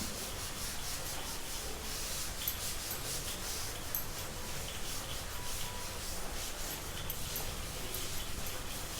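A steady, close rubbing sound of writing being erased from a board, with rapid back-and-forth swishes continuing without pause throughout.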